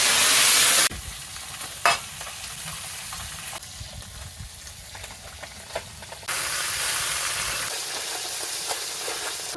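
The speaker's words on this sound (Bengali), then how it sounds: "এবার আমি মাছগুলি দিয়ে ভেজে নেব একবারে ধরবে না দুবারে ভেজে নেবো" Small puti fish fry in hot oil in a wok, opening with a loud spitting burst before settling into a steady sizzle with occasional stirring clatter.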